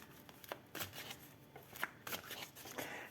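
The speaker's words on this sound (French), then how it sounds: "Je vais prendre une carte pour le masculin." An oracle card is slid from a deck, with a series of crisp papery flicks and shuffling rustles in quick irregular bursts, close and fairly quiet.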